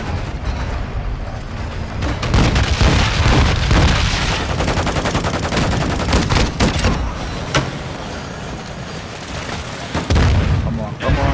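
Gunfire and heavy booms fill a Call of Duty Modern Warfare 2 Ground War battle, with loud, continuous shots and blasts layered throughout while players talk over the din.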